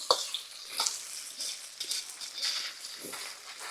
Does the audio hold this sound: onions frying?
yes